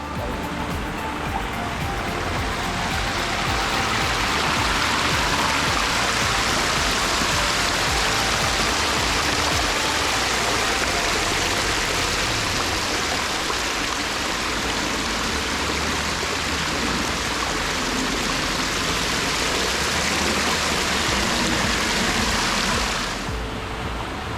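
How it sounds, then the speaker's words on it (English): Water pours from a pump into a garden pond during a cleaning, a steady, loud rushing wash that runs unbroken for about twenty-four seconds and then stops abruptly near the end. "All right, we got the pump plugged in. The water's flowing, nice and clear now."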